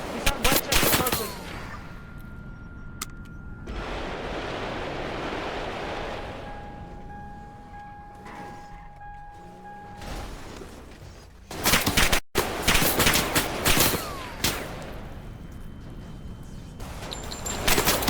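Gunfire erupts during a police officer-involved shooting captured on a body-worn camera at Winchester and Carson, with a sharp cluster of loud, close shots followed by more rapid bursts over rustling movement and background noise.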